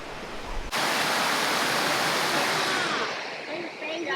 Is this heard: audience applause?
no